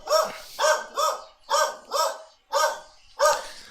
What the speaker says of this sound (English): Mailman dropping off a package at the door. The dogs are going crazy.